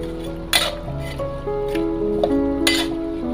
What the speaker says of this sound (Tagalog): Ngayon naman ilalagay na natin itong ating sibuyas